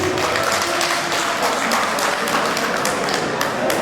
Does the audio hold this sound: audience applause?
yes